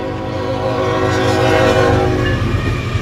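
A heavy BNSF manifest freight train led by an ES44C4 locomotive rumbles past close by in Ladysmith, a steady loud mix of low engine drone and rolling rail noise that holds throughout.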